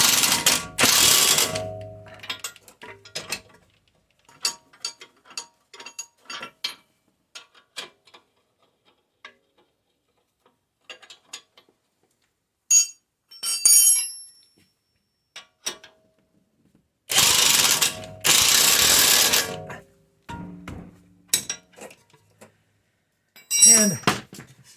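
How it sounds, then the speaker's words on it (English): Ratchet with an E18 socket snugging down front axle bolts on a Mercedes GLK 350 4Matic X204, loud close bursts of rapid clicking in several separate runs with pauses and scattered small metallic taps between. "21mm wrench and an E18 socket. I'm just going to run them down snug."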